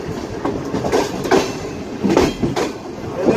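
Sir Syed Express passenger train rolling past a station platform, with a steady loud rumble and rhythmic clickety-clack of wheels over rail joints, close by and without speech.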